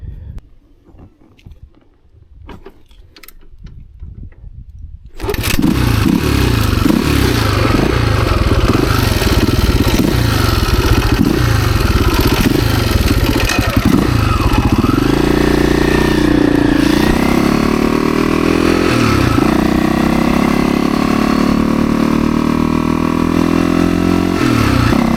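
A dirt bike engine, recently given a clutch fix, sits quiet at first, then roars up loud and close while riding, its pitch rising and dropping through gear shifts for about twenty seconds.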